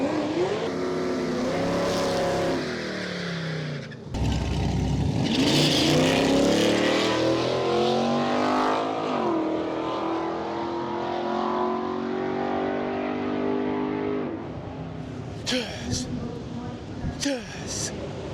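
A race car roars past during the Miles of Mayhem 2024 race with engine revving and pitch sweeping, loud and close, while commentary voices talk over it.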